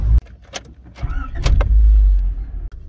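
A retro classic Rover car's engine cranks and catches in one short burst, then settles into a loud, steady, close idle with deep low rumble, no talk over it.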